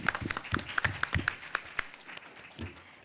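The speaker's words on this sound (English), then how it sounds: "Grace, you want to clap?" An audience at a Comic-Con panel claps sparsely and fairly quietly, with distinct individual claps picking out an uneven rhythm over about three seconds.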